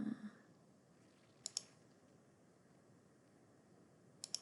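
A computer mouse clicks twice in quick succession while drawing in software, then a second pair comes a few seconds later, crisp and close in an otherwise quiet room.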